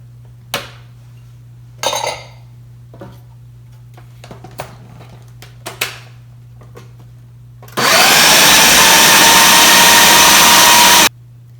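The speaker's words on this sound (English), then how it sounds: "mix the dry ingredients, which we just combined in the food processor" A food processor chops oats, dates and dried apricots for homemade granola bars. A few light clinks and clatters come first, then a loud, steady whirring grind that runs for about three seconds and cuts off abruptly.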